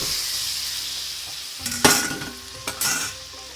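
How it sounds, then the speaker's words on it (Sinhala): Meat sizzles in a hot pot, with a couple of sharp bursts of stirring and metal scraping breaking through the steady frying hiss. "මේ මස් ටික පුච්චන් මේක බැදින්න ගන්නවා"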